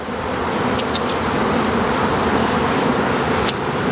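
Honey bees buzz steadily around an open hive full of burr comb during a spring inspection, a dense continuous drone with no talk.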